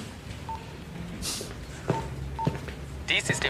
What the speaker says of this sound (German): Schalt mal die Mailbox ein.